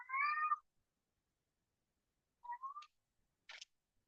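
A cat meows three times in near silence: a clear, full meow first, then a shorter rising call after a pause, then a brief faint chirp.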